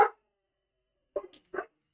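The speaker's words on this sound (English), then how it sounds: "Sorry about my barking dog." A dog barks indoors, a short bark at the start and then two quick yips after a pause, moderately near and otherwise quiet.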